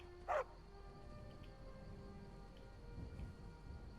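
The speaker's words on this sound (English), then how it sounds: "Hey, dog." A dog in the video game Skyrim, in the village of Riverwood, gives a single short bark near the start, followed by quiet ambient game sound with no talking.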